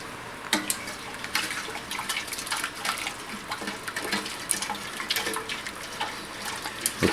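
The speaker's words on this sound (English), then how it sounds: "Give that a stir." Liquid sloshing and clinking as water and white sugar are stirred in a pot for homemade root beer, with scattered sharp taps of a utensil against the sides over a steady watery background.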